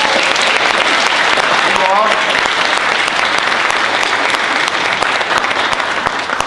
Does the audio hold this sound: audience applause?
yes